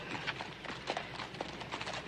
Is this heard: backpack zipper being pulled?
no